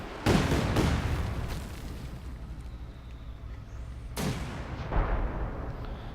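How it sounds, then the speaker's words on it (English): Howitzer artillery firing in the video game Company of Heroes 2: a loud boom opens, a second blast follows, and another heavy report and a further thud come later, each trailing into rumbling battlefield ambience. "There we go, Howitzer's ready to fire."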